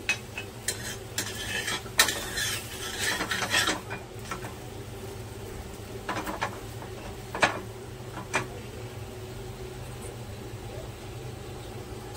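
A methi paratha fries in oil on a pan, with a continuous sizzle, a busy stretch of scraping and clinking utensil sounds early on, and a few isolated taps later.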